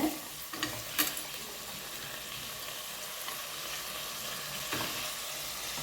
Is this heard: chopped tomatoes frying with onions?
yes